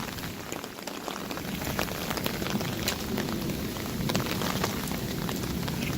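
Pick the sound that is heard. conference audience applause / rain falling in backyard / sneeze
rain falling in backyard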